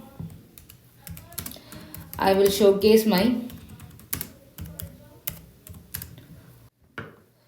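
Computer keyboard typing, with rapid clustered keystroke clicks repeating throughout at close range, while someone talks over it in the middle.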